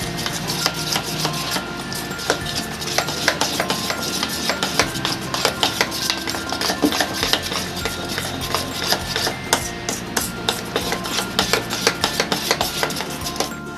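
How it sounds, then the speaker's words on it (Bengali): Thick semolina idli batter stirred briskly in a bowl after Eno and a little water go in, making a dense, rapid scraping and tapping of spoon on bowl, steady and close throughout. "ইনোটাকে দিয়ে আমি আবার ভালো করে নেড়ে নেব।"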